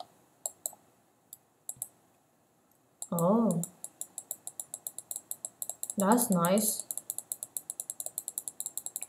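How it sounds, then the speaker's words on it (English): Rapid, steady computer mouse clicks repeat throughout a Roblox CheeseBurger Simulator session, a long train of sharp near ticks, broken twice by a brief spoken remark. "I'm just gonna keep on clicking here."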